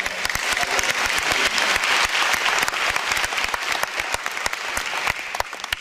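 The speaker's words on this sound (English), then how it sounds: "So give them a round of applause." An audience at a youth debate event bursts into steady, dense applause, many hands clapping together at a constant level throughout with no voices standing out.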